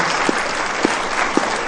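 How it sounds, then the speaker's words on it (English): An audience at a panel discussion applauds steadily, a dense wash of many hands clapping for the whole moment, loud and close with no voices on top. "Give him a round of"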